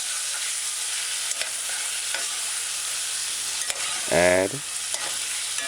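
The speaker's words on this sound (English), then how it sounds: "Now add your broad beans and stir fry." Broad beans stir-fry in a pan over a stove set fairly high, a loud continuous sizzle with occasional light clicks from stirring, close up; a single spoken word briefly sounds over the frying.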